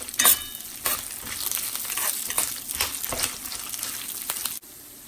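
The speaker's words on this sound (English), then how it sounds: "On low flame I'm roasting everything, and then see that the lentils should turn golden brown." Lentils roast in a pan on a low flame, a crackly sizzle broken by scraping strokes of stirring, with no one talking.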